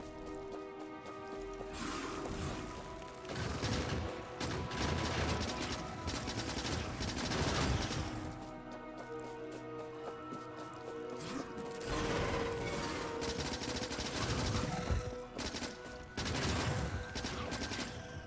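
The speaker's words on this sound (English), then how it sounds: "you can shoot the SMG and throw grenades simultaneously" Bursts of SMG fire in Factorio, rapid rattling volleys mixed with crashes and blasts, coming in waves with short lulls, loud and busy over a constant game background.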